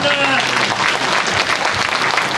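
Dense, sustained applause from a large audience in a concert hall as a lawmaker arrives at a forum on unification, loud and even throughout.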